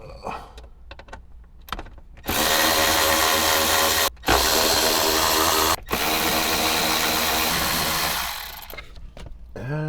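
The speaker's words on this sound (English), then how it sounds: "we're gonna remove these two 10mm bolts on either side" A power drill spins out 10mm bolts inside a 2024 Toyota Land Cruiser dash, whirring loudly and steadily up close in two long runs separated by brief pauses.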